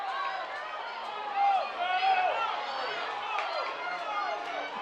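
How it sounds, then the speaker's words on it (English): Spectators at a high school football game, Capital at Shelton, shouting and yelling encouragement in a dense wash of many voices, swelling briefly louder midway as a runner goes. "crowd says go, keep going"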